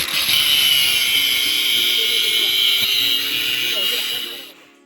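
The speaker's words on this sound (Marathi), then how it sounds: "ते काढण्यासाठी आम्हाला कटर मशीनचा वापर करावा लागला" A cutter machine grinds through metal bangles worn on a person's arm with a steady high-pitched whine that holds for several seconds and then winds down to quiet.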